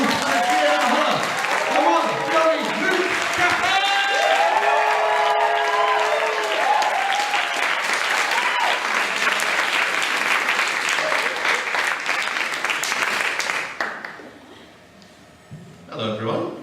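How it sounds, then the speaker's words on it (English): An audience gives a sustained round of applause for a performer at a comedy evening, dense clapping with some voices mixed in, lasting about thirteen seconds before fading to near quiet and a brief restart. "Would you please start a round of applause?"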